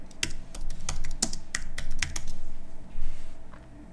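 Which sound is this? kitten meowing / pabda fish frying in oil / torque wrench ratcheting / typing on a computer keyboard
typing on a computer keyboard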